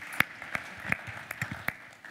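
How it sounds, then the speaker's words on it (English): Sparse, faint clapping from a few people in the audience at a finance technology pitch event, roughly eight separate claps scattered irregularly with no voices. "Applause."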